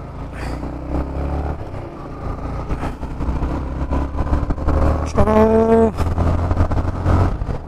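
Motorcycle riding on a highway on a long-distance ride, steady engine and wind roar throughout with a brief horn-like tone near the end, close and loud, no speech.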